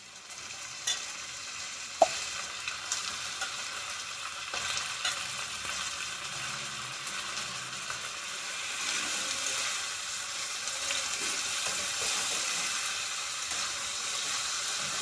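Mutton and potatoes fry in a pan with a steady bright sizzle and crackle, a few sharp clinks and stirring scrapes near the start, and the frying swelling louder toward the end.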